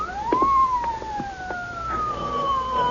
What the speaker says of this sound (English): Hey, listen. Police car.